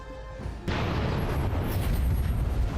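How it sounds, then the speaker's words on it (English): An explosion spell goes off in Dragon Age: Origins, a sudden loud burst followed by a sustained roaring, crackling rumble of fire. "Here's a little bit of a kaboom."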